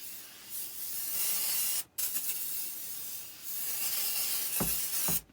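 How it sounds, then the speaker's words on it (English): Several close hissing sprays from a trigger bottle, each a few seconds long, separated by short pauses, followed by a couple of light clicks. "I take a cleaner, a non-abrasive cleaner, and I spray"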